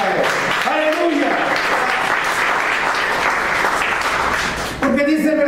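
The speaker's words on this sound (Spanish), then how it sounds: "Dale una ofrenda de palmas a Él" A church congregation claps in applause, a dense steady wash of hands that fills the space for several seconds before fading, with a voice speaking at the start and again as the clapping ends.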